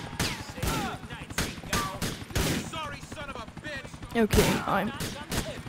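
Gunfire in Grand Theft Auto cracks out in sharp repeated bursts, loud and close, mixed with someone talking over the shots.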